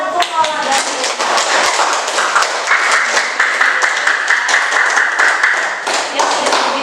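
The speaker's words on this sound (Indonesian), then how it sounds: "kita kasih tepuk tangan untuk Lola dan Hilma" A classroom of students claps for two classmates, quick bright claps layered over one another in a lively burst, with voices talking through it.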